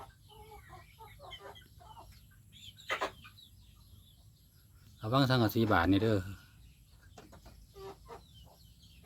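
Chickens cluck in scattered short calls close by, with one loud, drawn-out vocal burst in the middle, while someone talks intermittently over them.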